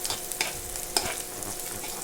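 A spoon stirring onion gravy as it sizzles in a pan, with a steady frying hiss and a couple of soft scrapes and clinks of the utensil, close and with no talking.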